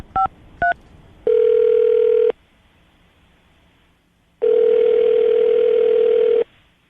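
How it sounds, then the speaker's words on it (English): A telephone gives two quick dialing beeps, then a steady tone that lasts about a second, a pause, and a longer steady tone lasting about two seconds, all clear and close. "I'm going to dial the phone number right now"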